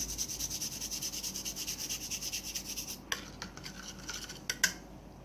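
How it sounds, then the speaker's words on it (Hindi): Rust being rubbed off a metal gardening cutting tool, a steady rhythmic scraping stroke repeated for about three seconds, then a few sharper separate scrapes and clicks, close and moderately quiet with no talking. "उसी तरह ये कटिंग टूल को भी हम ऐसे करके रस्ट फ्री कर देते हैं।"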